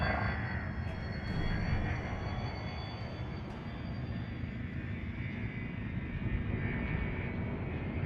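Spaceship engines running steadily after launch in the video game Elite: Dangerous, a continuous broad roaring rumble with a faint high whine, holding at a steady level with no talking.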